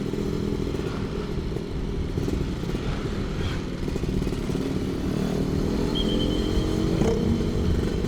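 A Suzuki Satria two-stroke motorcycle ridden through the streets at night, its close, buzzy engine droning steadily with slight rises in pitch as it accelerates, no talk over it.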